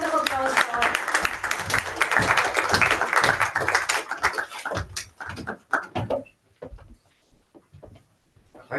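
Applause from a conference audience welcoming Lord Bilimoria to the stage at a diversity and inclusion event, a dense, loud wash of clapping that thins out and fades to scattered claps near the end.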